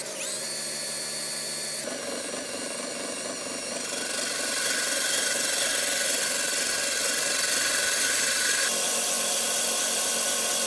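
A power drill fitted with a 1/2-inch socket turns a lawn mower reel backwards, whirring steadily and loudly, its motor pitch shifting and rising partway through, with a faint mechanical rattle underneath.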